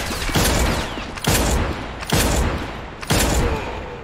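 Repeated bursts of gunfire in a physics-based John Wick simulator shooter game, four loud broadband volleys roughly a second apart, each booming and trailing off, with no talk over them.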